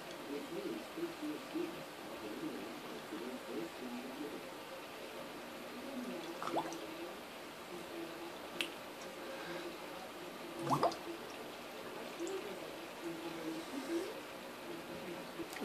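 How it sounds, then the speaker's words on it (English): Red punch bubbles and squishes faintly in a pinched container during a magic trick, with soft liquid gurgles and a few sharper drips over quiet background while someone talks. "And that is how you do the bubbling red punch trick."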